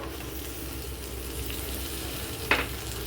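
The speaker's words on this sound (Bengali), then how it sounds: "অল্প পরিমাণে নুন এটাকে দিয়ে আমি ভালোভাবে ঝুরঝুরি করে ডিমটাকে ভেজে নেব" Fish roe frying with salt and onions in a pan, a low steady sizzle with one brief sharp clink or scrape near the end, no voices.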